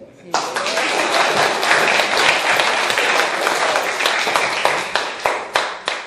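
Audience applause at a political event in Indonesia, loud and sustained from a crowd clapping for about six seconds, with individual claps thinning out toward the end.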